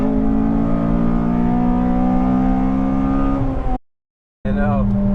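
A Honda Civic Type R FD2 engine revs hard and high, holding a strong steady tone before cutting off abruptly into a brief silence, then another rev picks up right after.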